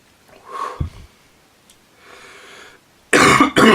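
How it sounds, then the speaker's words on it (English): A couple of sharp, close coughs, the last pair loud and harsh, with quieter breathy throat sounds in between. "I've had a cough all week."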